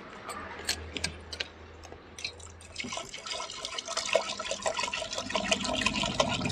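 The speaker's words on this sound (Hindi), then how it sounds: "2-3 पानी और धोती हूँ दोस्तों।" Soaked lentils being rinsed by hand in water in a home kitchen, with close splashing, swishing and irregular drips that grow busier and more continuous toward the end, and no talking.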